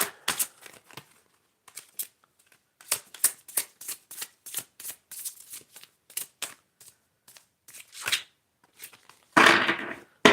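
Tarot cards riffle in quick bursts, a rapid series of crisp flicks with short pauses, ending in a louder cascading shuffle.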